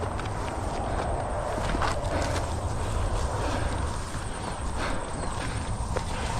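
Cattle bolting through bush on a New Zealand mountain track, heard as a steady, dense rustle of hooves and trampled vegetation at moderate distance, continuous with no talk over it.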